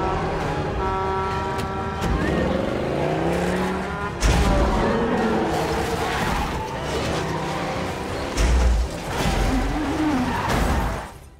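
A car crash scene in the Percy Jackson TV show: revving engines, tyre squeals and sudden jolting impacts blend with dramatic score, loud and close with several sharp hits.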